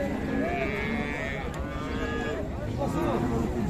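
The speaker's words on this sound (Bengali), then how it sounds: "বাচ্চা সব ফ্রিজিয়ান জাতের গাভী গরুগুলি কেমন ধরে বেচা কিনে আছে দেখছি কিন্তু আমরা" Friesian dairy cows and calves moo at a busy rural cattle market, with repeated close lowing calls over a crowd murmur and voices talking in the background.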